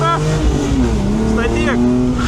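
A rally car revs hard during sideways drift training, its engine rising loudly and steadily up close with the pitch climbing through the gear, while a voice talks over it.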